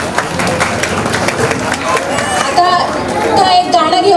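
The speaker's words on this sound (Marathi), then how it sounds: "पण परत एकदा टाळ्या आहेत मुलींसाठी" An audience at a women's association Ganeshotsav program applauds the girls, with scattered clapping mixed into crowd chatter and voices, which swell slightly toward the end of the short burst.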